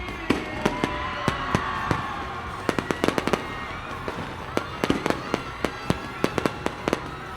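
A New Year fireworks display over the centre of Tagum City, with a rapid, uneven stream of sharp bangs and crackles, some far and some nearer, over a rumbling background of distant bursts.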